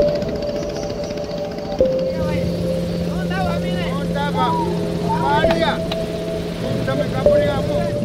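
A boat engine drones steadily on an Amazon river, a loud, even motor hum lasting throughout, with voices talking over it.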